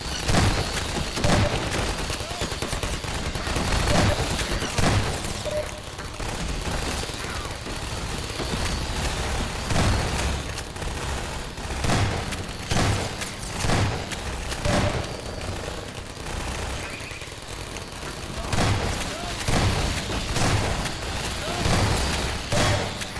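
Video game turrets keep up dense, continuous gunfire with booming thumps, loud throughout, while people talk over the din.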